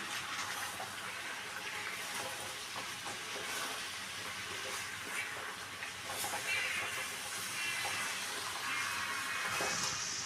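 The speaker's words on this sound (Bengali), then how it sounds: "আমি এটাকে ভালো করে কষিয়ে নিচ্ছি" Chicken being fried with spices and coriander leaves, a steady, loud sizzling hiss that runs unbroken throughout with no talk.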